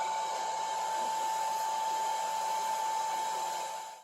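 Heat gun warming wood grain vinyl trim on a Triumph Spitfire dash, a steady airy blowing hiss with a constant whine, continuous and fairly quiet, fading at the end.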